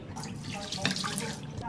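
Liquid poured out in a steady splashing stream, close by and fairly constant for just under two seconds, with a brief louder splash near the middle.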